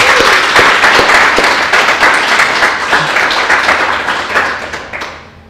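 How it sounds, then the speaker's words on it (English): An audience at the Olds Institute 2017 annual general meeting bursts into a loud, dense round of applause, with many hands clapping steadily and close, then tapering off at the end. "So if you could also join me in just a round of applause for Patty and Dean and Greg"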